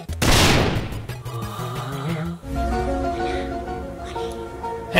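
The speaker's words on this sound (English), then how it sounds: "Explode this wooden block. I have no idea who's here, but I'm exploding it." A wooden block blows up in the Roblox game Exploding Tag, a loud burst of crackling, popping blasts that rings out over dense game music and effects.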